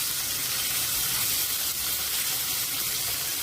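Cumin seeds and curry leaves sizzle in a ladleful of hot oil, making a dense, steady hiss with soft crackling throughout.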